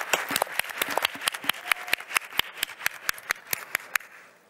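A small audience at the TAT Takeoff 2022 event clapping, with distinct, scattered hand claps in an uneven rhythm that thin out and fade toward the end.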